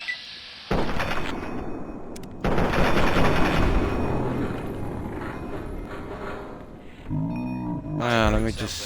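Gunfire in the video game Fallout 3 comes in loud, rapid automatic bursts that run almost without pause, followed by a short voice near the end.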